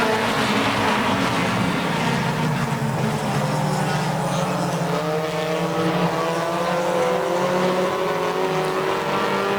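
Race cars roar past on a track during a TSS heat race, their engines forming a loud, continuous drone that rises and falls in pitch as they pass, with an announcer speaking over the noise.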